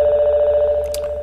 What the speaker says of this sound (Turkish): Telefonun çalıyor.